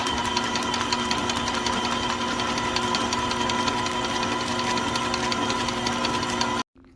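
An electric mixer creams butter with egg yolks for cookie dough, giving a loud, steady motor whir with a faint rhythmic knock close by, running alone until it cuts off abruptly near the end.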